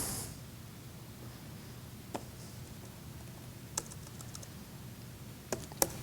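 Soft, steady typing on a computer keyboard, faint and continuous, with several sharper key clacks standing out near the end.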